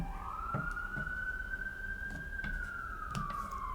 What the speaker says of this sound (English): Big old sirens going off.